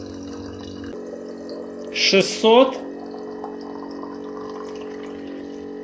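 Electric drink dispenser for vodka and water pouring water, a steady low pump hum and liquid flow running throughout, with a voice speaking briefly midway.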